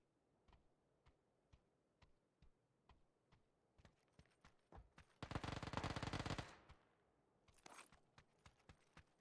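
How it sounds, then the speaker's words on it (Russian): In the video game PUBG, faint regular clicks lead into a sustained burst of rapid automatic gunfire, then a second, shorter burst; the shots come across as fairly quiet and distant. "Там выстрел сочный, мощный"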